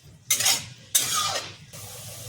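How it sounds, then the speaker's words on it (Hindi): Onions go into hot oil for bhindi masala, setting off three close bursts of crackling sizzle, the first two loud and abrupt and the last settling into a steadier fry. "तेल चढ़ा दिया। अब डालेंगे इसमें प्याज।"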